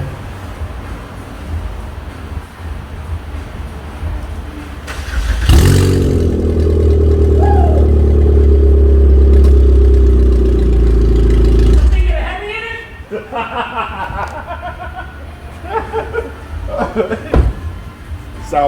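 Mitsubishi Outlander with its catalytic converter stolen, revving loudly with a raw, booming exhaust for several seconds, framed by someone talking before and after in a repair shop.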